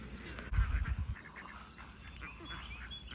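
A small flock of farm ducks quacks and chatters at close range outdoors, with a low thumping noise near the start.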